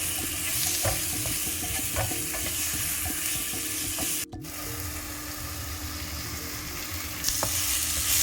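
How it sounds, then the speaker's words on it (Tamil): Tiger prawns sauté in a pan with turmeric, garam masala, coriander powder and salt, making a steady close sizzle. A spoon scrapes and stirs in repeated strokes, and there is a brief break in the sound midway. "மஞ்சத்தூள், கரம் மசாலா, கொரியண்டர் பவுடர் நல்லா ஒரு 2 மினிட்ஸ் வதக்கிடுங்க."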